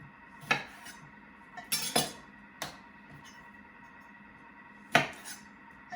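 Kitchen knife halving plum tomatoes on a board, a handful of sharp, close knocks and clinks spaced irregularly over quiet background.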